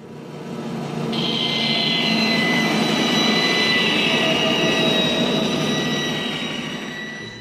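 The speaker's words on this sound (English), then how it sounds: "For that I will go over on my bandsaw." Bandsaw cutting through a piece of plywood, a loud continuous whining drone with a high blade tone as it bites into the wood, holding steady for several seconds before easing off, with no voices.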